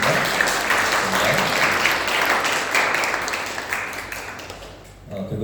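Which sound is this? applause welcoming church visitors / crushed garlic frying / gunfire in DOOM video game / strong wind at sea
applause welcoming church visitors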